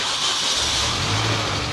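A 2005 Mini John Cooper Works with an unrestricted exhaust and chrome tips turns over and fires, a low engine rumble settling in after a broad hiss of cranking, steady and close with no talk.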